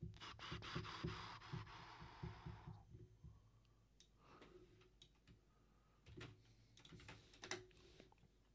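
Quick bursts of keystrokes on a computer keyboard are heard close up, with pauses between runs of clicks and a soft rubbing sound early on, in a quiet room.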